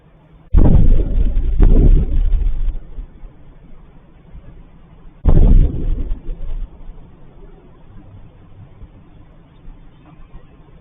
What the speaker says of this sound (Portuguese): dá para ouvir várias explosões aqui no caso